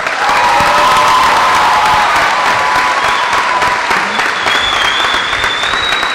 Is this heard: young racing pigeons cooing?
no